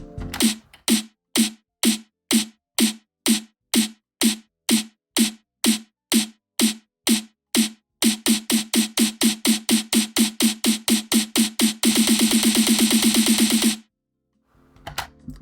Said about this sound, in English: Part of the problem with the classic snare roll is that it's very predictable